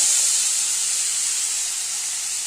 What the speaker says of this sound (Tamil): இப்போ நல்லா கொதி வந்துருச்சுங்க.